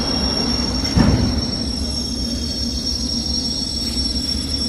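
Steady low rumble of a train in a station, with a brief squeal of wheels near the start and a constant high whine.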